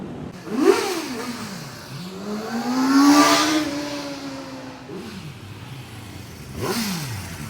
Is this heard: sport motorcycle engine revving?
yes